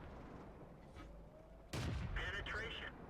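A tank's main gun fires in World of Tanks during a fight with a Stuart, a loud sharp blast standing out against a steady low engine rumble and faint game noise.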